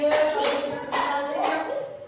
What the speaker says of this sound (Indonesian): Tepuk tangan dong temennya.